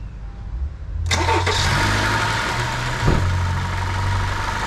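A 2018 Honda Odyssey minivan engine cranks and catches about a second in, then settles into a steady low idle that continues without a break.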